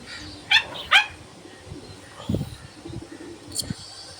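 A few short bird chirps, then low, soft cooing and rustling from two pigeons in a quiet setting, with one more brief call near the end.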